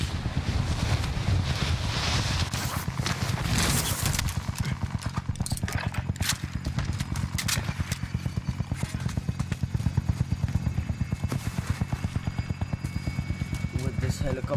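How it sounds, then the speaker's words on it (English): Helicopter in Call of Duty Warzone, a loud, steady rotor drone with rapid rhythmic chopping that runs under game noise for the whole stretch, with a voice talking over it. "With this helicopter you can't hear anything"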